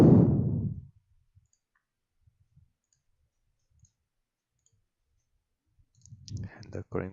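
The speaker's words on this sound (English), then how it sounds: "let me right click here and adjust the display here" A few soft, quiet computer mouse clicks tick in near silence while adjusting a display in OrCAD PSpice software, with a voice talking at the start and end.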